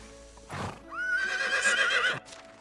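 A summoned riding horse in the medieval video game Medieval Dynasty gives a short snort, then one long, loud, clear whinny that rises and wavers before cutting off, with faint clip-clop around it.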